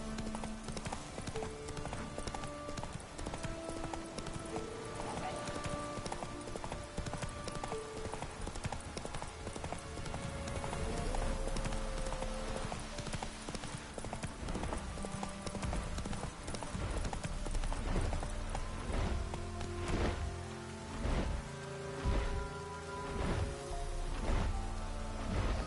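Roach, the horse in The Witcher 3, gallops with a continuous, quick run of hoofbeats layered over game music and ambience, while a voice speaks occasionally.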